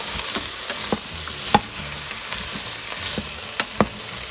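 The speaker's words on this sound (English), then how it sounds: "So I'm going to saute this." Vegetables for a veggie chili, including home-grown peppers, sauté in a pan with a soft steady sizzle broken by several spoon scrapes and clicks as they are stirred, with no talking.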